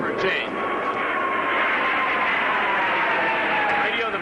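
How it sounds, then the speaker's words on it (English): Navy aircraft fly overhead in a war setting, their engines making a loud, steady roar that fills the whole clip, with voices mixed in underneath. "Navy planes! Navy planes!"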